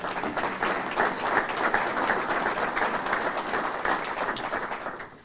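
Sustained audience applause fills a civic hall during a mayor's State of the City address, dense and steady clapping from a sizable crowd holding at an even loudness before tapering at the end.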